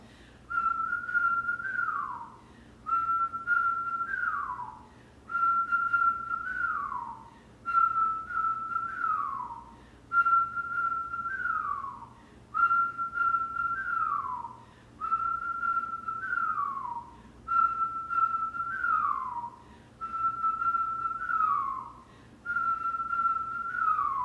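Whistling during a kundalini yoga class repeats the same falling phrase about ten times in steady rhythm, clear and close, each followed by a brief gap.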